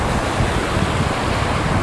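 Ocean surf breaks on a beach during surf fishing, a loud continuous wash of rushing water mixed with gusty wind noise on the microphone, no talking.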